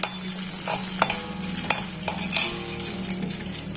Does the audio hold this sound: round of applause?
no